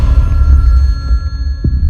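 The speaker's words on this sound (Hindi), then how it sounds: "Attend the phone sir. सुना नहीं आपने?" A telephone rings close by, its tone steady over a low rumbling background.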